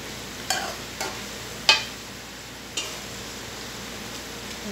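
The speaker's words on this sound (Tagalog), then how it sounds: "prito po tayo ng sibuyas" Soft steady sizzle of onions frying in a pan until brown, for biryani topping, with a few faint clicks and taps of a utensil scattered over the hiss.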